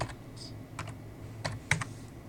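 Keystrokes on a computer keyboard while a program parameter is entered, a handful of sparse, separate clicks over a low steady hum, fairly close and quiet.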